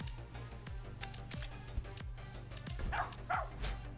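A dog barking in the video game Zero Division, with several short yaps and whimpers spread over a steady low background hum and faint ticking.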